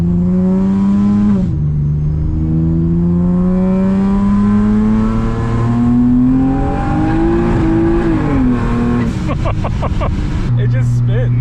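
A boosted Acura TL-S with a new intake accelerates hard, its engine note climbing steadily in pitch for several seconds, then briefly dropping and climbing again, loud and close from inside the car, with a voice heard over it.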